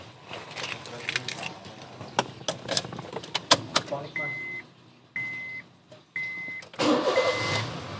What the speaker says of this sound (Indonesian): Di setirnya, saya nyalakan dulu mesinnya.